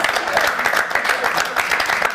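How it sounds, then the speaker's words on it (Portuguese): Dense applause from a television studio audience on a Portuguese morning show, for a guest named Alexandra, loud and continuous throughout with no pause. "Uma salva de palmas à Alexandra!"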